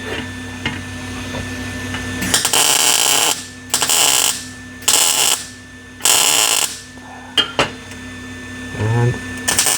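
Welding on a custom Corvair oil plate, going from 8 to 12 plates: several loud, crackling buzzes of a few seconds each start and stop with short quiet gaps between them, close by, with a steady electrical hum underneath.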